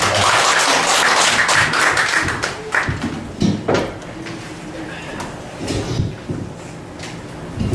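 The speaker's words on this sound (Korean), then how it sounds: "여러분 박수로 환영해 주시기 바랍니다" Audience applause in a lecture hall at a church training session, a dense wash of clapping that starts full and thins out into scattered claps and thuds, with voices mixed in.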